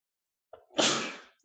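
A single sneeze bursts out after a short indrawn breath, close and fairly loud, then fades into a trailing exhale in an otherwise quiet room.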